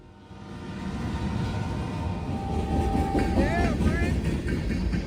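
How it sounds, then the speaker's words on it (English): CSX and NS freight trains meeting, with rumbling locomotives and rolling railcars building steadily in loudness, a brief wavering horn-like tone partway through and a faint voice in the background. "a train meet between CSX and NS"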